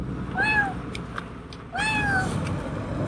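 A cat riding along on a touring bicycle in Ecuador meows twice, two drawn-out rising-and-falling cries about a second apart, close and clear over a steady rush of road and wind noise.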